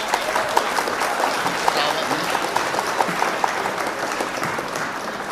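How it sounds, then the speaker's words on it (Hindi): Audience applause at an All India Mushaira poetry gathering, welcoming the poet Khursheed Haider to the stage: a steady, dense wash of clapping from a large crowd, with a few sharper individual claps standing out. "आइए खुर्शीद साहब का जोरदार तालियों से आप इस्तकबाल करें"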